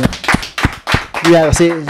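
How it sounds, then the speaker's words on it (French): A few people clap during a Christian gathering at a family home, giving several sharp, separate claps. A voice speaks and then sings over them. "applaudissez un peu pour lui"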